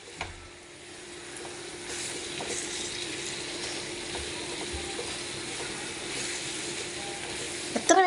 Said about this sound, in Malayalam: ഇനി നമുക്കിതൊന്ന് ഇളക്കി കൊടുക്കാം.